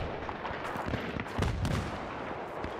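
Battlefield 3 grenade explosion: a broad, rumbling burst peaking about halfway through, set against a steady din of distant gunfire and battlefield noise with no voices.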